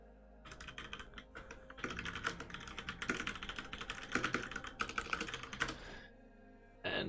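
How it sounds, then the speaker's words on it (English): Fast typing on a computer keyboard during a coding session, with dense, close clattering keystrokes in irregular bursts that stop briefly near the end, and no voices. "I've continued to type on a keyboard a lot since then"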